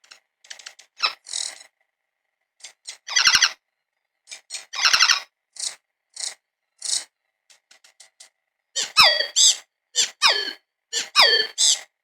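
Bird calls processed to sound robotic like R2D2: clusters of chirps, squeaky warbles and rising electronic-sounding whistles arrive in short bursts separated by silence, close and fairly loud.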